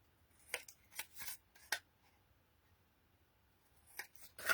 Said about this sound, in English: I then just need my scissors, and I'm just gonna snip kind of over each corner.